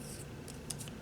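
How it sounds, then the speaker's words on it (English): Big scissors cut paper along a drawn line for a Halloween mini note pad cover, giving a few crisp, close snips spaced irregularly over a quiet background. "then I'm going to come back in with my big scissors and I'm going to cut right along that line right there"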